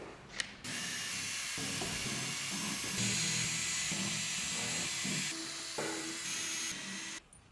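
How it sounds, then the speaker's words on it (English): Screws being driven out of a Kombi bed frame with a power tool during a Forty Winks bed fitting in a Volkswagen Transporter, a steady whirring drill sound running almost continuously up close. "Blake's just going to pop these screws out here now"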